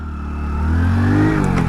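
A 100cc commuter motorcycle engine runs close by and rises in a smooth rev, holding a steady, throbbing drone with no talk over it.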